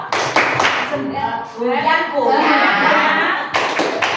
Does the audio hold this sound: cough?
no